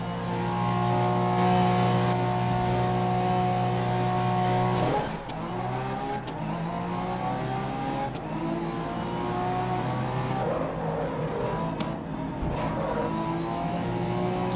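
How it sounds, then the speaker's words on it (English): Porsche in the racing game GRID 2019, engine revving hard with a strong harmonic whine, shifting gear about five seconds in and then climbing again through further upshifts, loud and close with no talking. "you get this Porsche"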